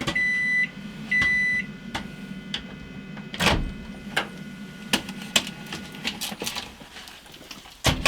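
A microwave powered by an ALLPOWERS S2000 portable power station hums steadily after a few electronic beeps, with scattered pops and ticks of bagged popcorn starting to burst, close and with no talk.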